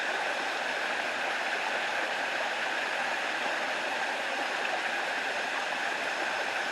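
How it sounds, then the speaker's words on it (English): Steady, full-bodied rush of a waterfall in the hills of Portland, Jamaica, constant and unbroken throughout, with no voices over it. "That's the spot there where the water comes down."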